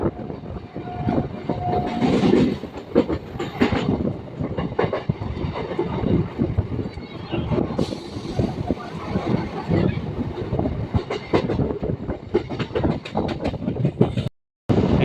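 Loud, steady rumble and rapid clickety-clack of a Lalgola–Sealdah MEMU train passing through Titagarh station, with occasional squeals and a brief cut near the end.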